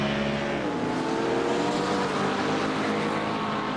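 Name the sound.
BMW race car engine in a racing video game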